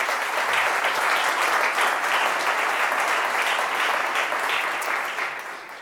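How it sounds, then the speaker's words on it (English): An audience at the DOT Smart Cities Challenge event for Columbus gives a full round of applause, steady, even clapping that stays strong for several seconds before fading slightly at the end. "Would you join me in giving them a round of applause?"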